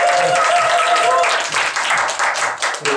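A crowd claps together at a leadership school debate session in a brisk burst of applause that thins out after a couple of seconds, with a few scattered claps continuing.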